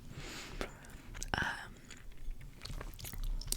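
Close-up gum chewing and wet mouth sounds, soft smacks and clicks at an irregular rhythm, quiet and intimate in an ASMR setting.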